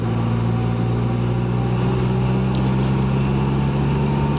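A 2024 Can-Am Spyder RT-Limited three-wheeled trike engine hums steadily and close throughout as it is ridden through steep turns, with a constant low drone and no talking.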